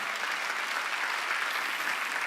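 A congregation claps during a Wednesday church worship service, a dense, steady wash of many hands sustained evenly and fairly close throughout, with no voices rising above it.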